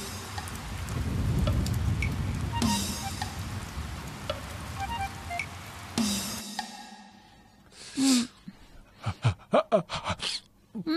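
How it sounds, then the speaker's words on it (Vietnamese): Steady rain falls for about six seconds as a dense hiss with occasional drip sounds, then cuts off and gives way to sharp gasping breaths and short vocal bursts. "Trời mưa rồi kìa."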